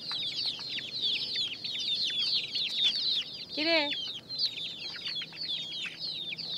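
Chickens on a rooftop farm shared with pigeons cluck and chatter almost without pause, with one louder, drawn-out call in the middle and a person briefly speaking nearby.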